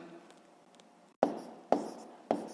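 Pen writing on paper during a sixth-grade math exercise: a soft scratch, then three sharp close strokes in quick succession.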